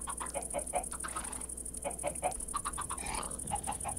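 Several chickens cluck in Minecraft in quick clustered bursts, close and fairly clear, over a faint constant electronic hum.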